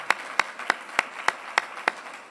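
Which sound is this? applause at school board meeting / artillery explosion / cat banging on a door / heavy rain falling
applause at school board meeting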